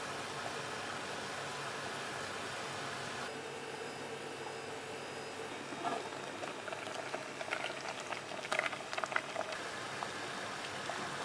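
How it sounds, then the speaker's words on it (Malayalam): Rice and cumin soup boiling in a pot, a quiet steady bubbling hiss with a few louder pops near the end, no voices. "തിള വന്നിട്ടുണ്ട്."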